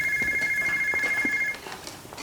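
A telephone rings in a Hindi-dubbed film scene: a steady electronic ringtone repeats for about a second and a half, then stops, leaving quieter background sound.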